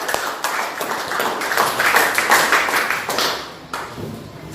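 Students applaud together in a classroom, a dense run of hand claps lasting several seconds with uneven bursts, fading slightly near the end.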